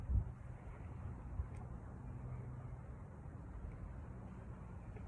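Wind blows outdoors in a steady low rumble against the microphone, a constant muffled roar with no talking and only a brief small tap partway through.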